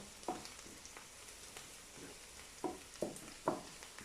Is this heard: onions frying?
yes